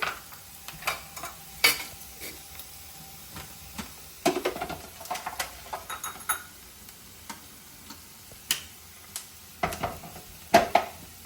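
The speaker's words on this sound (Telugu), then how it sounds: "ఇప్పుడు చింతపండు కూడా ఇందులో కొంచెం ఫ్రై అయితే సరిపోద్ది" Tamarind frying in a pan as it is stirred, a soft background sizzle punctuated by irregular sharp clicks and scrapes of a spoon on metal, close and fairly quiet.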